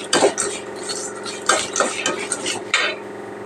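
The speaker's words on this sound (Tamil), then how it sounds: "வேர்க்கடலை ஆல்ரெடி ஆயில் வறுத்தது தான், அதனால் கடைசியாக நம்ம வறுத்தா போதும்." Peanuts already fried in oil being roasted in a pan as a final step, with a metal utensil scraping and stirring them in quick, uneven clinks and rattles over a faint sizzle, close up.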